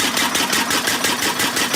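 A locomotive engine in a video game, throttled up to the sixth notch, chugs in a fast, steady pulsing rhythm, loud and close, with a dense mechanical rumble throughout.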